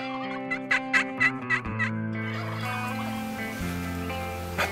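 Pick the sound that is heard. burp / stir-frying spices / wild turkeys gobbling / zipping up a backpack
wild turkeys gobbling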